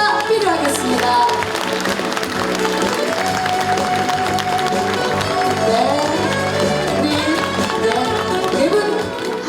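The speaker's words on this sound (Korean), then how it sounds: "여러분의 박수가 필요하겠습니다." Crowd applause rises at the inauguration ceremony for the Uljin county governor as flowers are presented. The clapping runs continuously for several seconds, loud and full, mixed with steady ceremonial music underneath.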